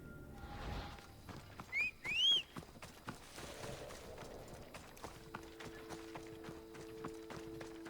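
A horse's hooves clip-clop in Assassin's Creed Odyssey as the rider heads across the Mount Helicon area, a quiet run of rhythmic thuds with a brief whistle early on and a low steady hum later.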